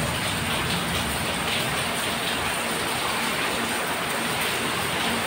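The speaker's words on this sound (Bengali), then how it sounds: "বৃষ্টি হচ্ছে তো হচ্ছে, বৃষ্টি থামার কোনো নামই নেই" Steady, unrelenting rain pours down on a cold rainy day, a broad continuous hiss and patter that stays even and fairly loud throughout, with no talking.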